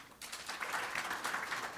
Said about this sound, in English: May I please have a huge round of applause?